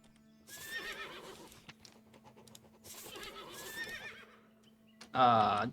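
A horse whinnies loudly and close at the end, after a stretch of quieter shuffling and clopping sounds with a steady low hum underneath, in the video game Above Snakes.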